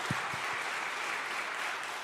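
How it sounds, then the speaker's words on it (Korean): A church congregation at a Korean year-end worship service gives a big round of applause, heard as a steady wash of clapping with a few low thumps at the start. "하나님께 한번 큰 박수로 영광 올려드렸으면 좋겠습니다."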